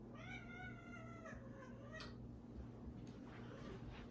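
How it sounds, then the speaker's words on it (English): Cats in a house meow faintly, with a drawn-out wavering meow followed by a shorter cry, heard at a distance under a steady low room hum. "Can you guys hear my cats? They were just meowing."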